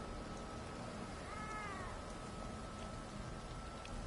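A faint cat meows once inside the Elder Scrolls Online game world, a short rising-falling cry buried under steady hissing rain-like ambience.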